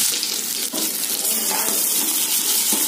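Cashews and onions frying in a pan give a loud, steady hiss and sizzle close by, with a few small clinks and shifts in the spatter.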